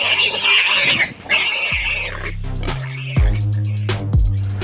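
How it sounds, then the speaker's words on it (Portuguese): An African warthog fighting a leopard gives harsh squealing grunts and pig-like snorts, with a deep growling roar and several loud thumping scuffles close up. "Dá só uma olhada nessa briga violenta entre um leopardo e um javali africano."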